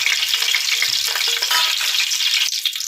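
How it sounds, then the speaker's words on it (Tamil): Fennel seeds sautéing lightly in oil in a pan for chicken biryani, a continuous bright sizzle with occasional stirring scrapes, close and steady with no voices. "பெருஞ்சீரகத்தை போட்டு லைட்டாக வதக்கணும்."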